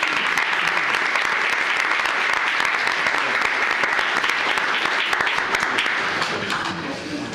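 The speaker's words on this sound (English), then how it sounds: "Let's give them a round of applause." An audience at a county commissioners court meeting claps steadily in sustained applause, loud and dense at first, then tapering slightly toward the end.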